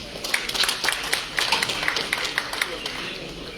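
An audience claps at a live event in Punjab after the host asks for applause, a sparse, fairly light patter of hand claps at a moderate distance with voices murmuring beneath.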